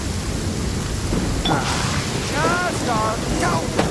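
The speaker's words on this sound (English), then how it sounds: "Uh-oh! Lightning storm!" Stormy weather in Genshin Impact's Inazuma region: a steady wash of rain and rumbling thunder fills the scene, with a voice speaking briefly over the top.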